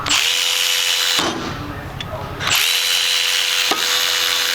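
A cordless 1/4-inch extended reach ratchet strains to break a bolt loose, with two long, loud motor whirs broken by a brief pause and a sharp click between them.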